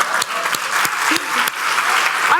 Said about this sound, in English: People want to clap.